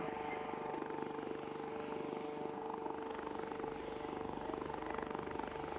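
A HAL LUH light utility helicopter flies at the Aero India 2021 air show, its steady rotor and engine drone holding a constant hum with a faint tonal whine throughout, moderately distant.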